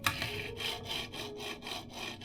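Small hard hybrid fingerboard wheels roll back and forth in quick repeated strokes, a gritty rasping rumble pulsing about every quarter second, close and fairly quiet.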